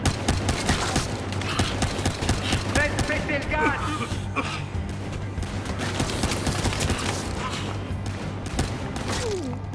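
Continuous gunfire and impacts in the shooter game Battlefield Hardline on PS4, with rapid bursts and thuds running throughout, loud and dense, while people talk over the action.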